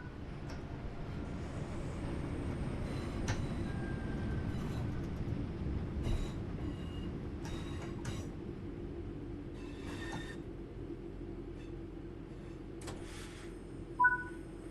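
A train in the game Train Sim World 6 rumbles steadily as it slows to a stop, with brief high brake squeals and hisses scattered over the low running noise, ending in a short louder squeal.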